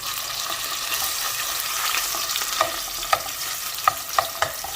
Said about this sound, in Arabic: أنا ودي أحمس اللهانة العفو القرنابيط